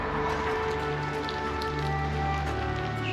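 Steady rain falls during a road bike ride on a descent, a constant close hiss of drops on surfaces with a low rumble of motion underneath, no talk.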